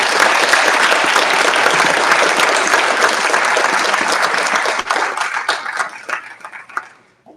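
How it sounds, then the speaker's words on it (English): A school board meeting audience applauds newly seated board members with a loud, full round of clapping that fades out in scattered final claps. "Let's give them a big round of applause."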